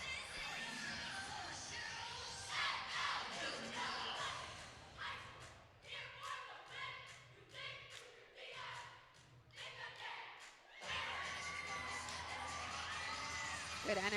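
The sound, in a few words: crowd cheering at cheerleading championship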